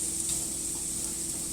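Garlic and onion samosa filling stirred in a hot pan, a steady soft sizzle and scraping under quiet room tone with no talk.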